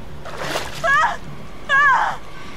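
A character wades and splashes into water in the horror game Until Dawn, with a couple of short sloshing splashes close by, partly under someone talking.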